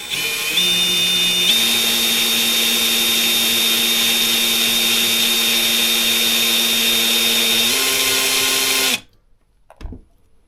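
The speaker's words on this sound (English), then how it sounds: "I'm letting the drill do the work." A power drill whines loudly and steadily while drilling into a lamp workpiece, its pitch shifting slightly as it runs, then cuts off abruptly, followed by a faint knock.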